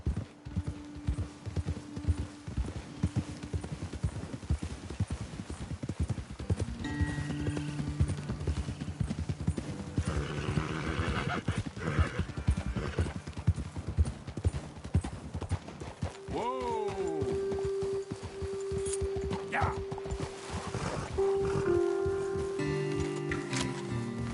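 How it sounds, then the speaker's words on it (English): Horses' hooves clip-clopping on a trail in the video game Red Dead Redemption, a steady close rhythmic clatter throughout, with a horse whinnying and characters talking over it. "Best leave the horses back a bit."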